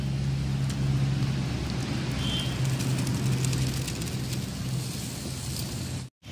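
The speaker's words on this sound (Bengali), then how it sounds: "জলটা টকবক করে ফুটে উঠেছে" A pot of water on the stove at a rolling boil while greens are being cooked, a steady dense bubbling hiss that runs continuously and cuts off abruptly near the end.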